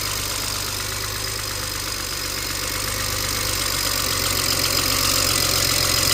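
A repaired 2007 BMW 335xi six-cylinder, now firing on all six injectors, idles up close in a steady mechanical hum with a faint ticking texture. The drone is unbroken and swells slightly toward the end, with no voices.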